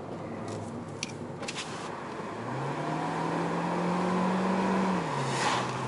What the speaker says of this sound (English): Nice, very nice exhaust sound.